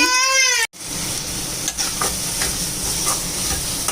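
Onions sizzle steadily in a hot pan while a utensil stirs and scrapes them in short, irregular strokes, close by, with no talking.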